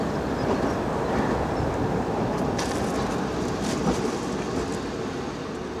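Train running at Cromer Station, an 1887 Eastern and Midlands Railway terminus in East Anglia where trains reverse, heard in 1996 as a steady, loud continuous rumble and rolling rail noise throughout, with no talking.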